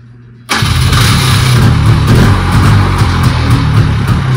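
A Polaris UTV engine is started: a short quiet moment, then an abrupt crank-and-catch into a loud, close, steady mid-pitched running engine with a rough, even rumble. No one speaks.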